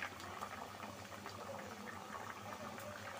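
Curry simmering in a covered pot, a steady soft bubbling and gentle hiss close by, continuous with faint pops throughout.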